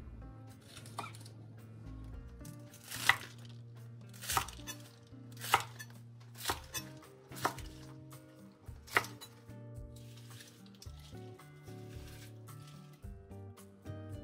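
Spring onions are cut on a board with a knife to separate the white and green parts, as a slow series of crisp, close single chops spaced about a second apart over a faint background hum.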